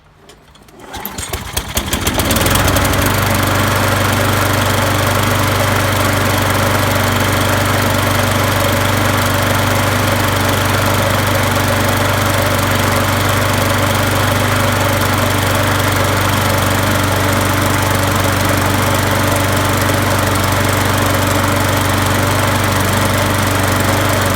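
A Toro push lawn mower under repair, with its exhaust shield off and a loose muffler, pulls over and settles into a loud, steady, close engine drone that runs without a break.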